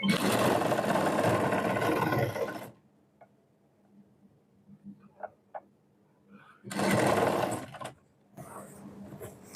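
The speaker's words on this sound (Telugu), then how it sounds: "ఇలా ఫ్రిల్స్ని పెట్టుకుంటూ స్టిచ్ చేసుకుందాం" A sewing machine stitches frills onto semi patiala pants in two loud, steady bursts of whirring, with a quiet gap of faint handling noises between them.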